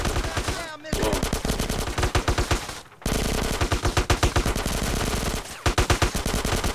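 A GTA San Andreas shootout between SWAT and the Bulls Mafia: near-continuous, loud automatic gunfire in dense overlapping bursts, broken by a few brief pauses.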